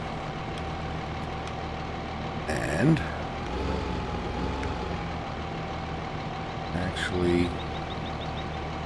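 A small tractor engine idles steadily under and between stretches of talk, with a low, even rumble and slight surges in loudness during a Caucasus farm harvest.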